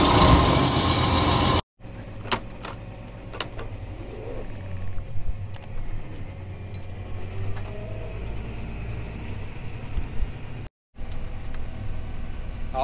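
John Deere 8R tractor pulling away to go load on a farm, a loud close rumble at first, then a lower steady engine drone with scattered clicks and knocks, briefly cut twice.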